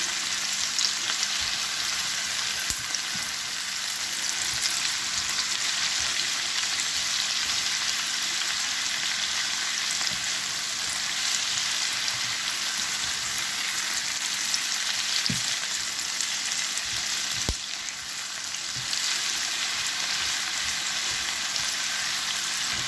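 Spring onions, from a bunch of white onions, sizzle steadily in a pan while being stirred: a continuous loud hiss with occasional soft scrapes and taps of the utensil, and no talk.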